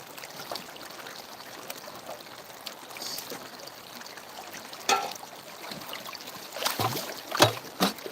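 Water swirling in a gold pan during panning in Dahlonega, Georgia, soft sloshing and trickling with a few louder splashes near the end, fairly faint and close.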